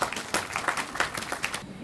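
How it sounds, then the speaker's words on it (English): Audience at the Co-operative University of Kenya's first graduation ceremony claps in a brief, scattered burst of separate hand claps, fairly close and moderately loud, thinning out at the end. "Can you welcome them with a hand clap?"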